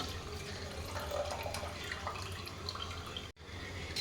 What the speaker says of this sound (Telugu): రైస్ వేసుకుంటున్నాను